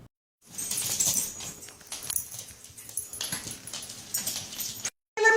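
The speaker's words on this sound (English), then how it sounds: "So she's flipping, and the other dogs are trying to help her or yell at her." Several rescue dogs whimper and yip in quick overlapping bursts close by, a busy restless stretch of high whines and short cries that cuts off briefly near the end.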